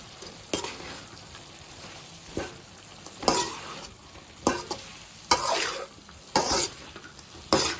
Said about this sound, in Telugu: మనం వేసుకొని పెట్టుకున్న ఈ చికెన్ వేసుకోవాలి వేసుకుని కలుపుకుందాం